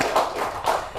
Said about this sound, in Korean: 박수로 이렇게 격려의 박수 드리겠습니다